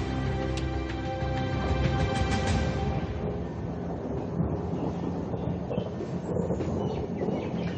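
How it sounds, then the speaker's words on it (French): Thunder from a thunderstorm rumbles loudly and steadily, with a denser crackling roll in the first few seconds settling into a continuous low rumble with rain-like hiss. "L'orage m'a toujours empêché de dormir."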